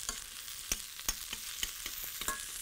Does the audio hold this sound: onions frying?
yes